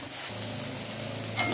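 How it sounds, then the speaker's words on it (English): Ginger garlic paste and slit green chillies sizzle steadily in hot oil in a pan over a medium flame while making vegetable kurma, with a constant close frying hiss. "We'll be frying this till the ginger garlic's"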